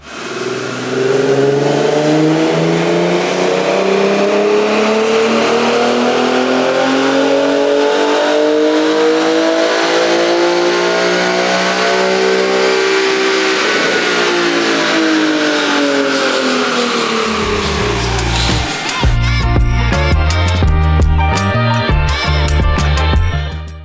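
A Nissan 300ZX twin turbo engine revs hard on dyno rollers, climbing and falling in one long sustained pull, loud and close, then breaking into rough, choppy bursts near the end.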